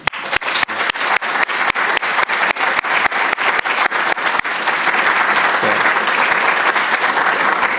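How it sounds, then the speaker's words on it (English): Audience applause at a space university program's closing ceremony, starting with a few sharp claps that quickly build into loud, dense, sustained clapping from the whole room. "So please give all these hardworking people one more round of applause."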